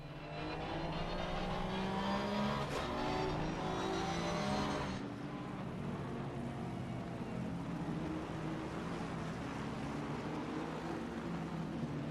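A steady, droning GT3 race car engine in a racing game at the Nürburgring, with layered harmonic tones, loud and continuous, shifting to a lower, muffled hum partway through as heard from the cockpit.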